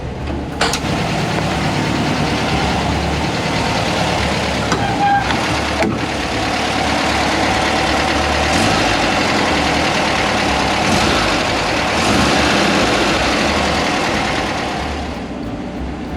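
A Volkswagen split-window bus engine idles steadily and loudly up close, a continuous low rumble with a few faint clicks and knocks.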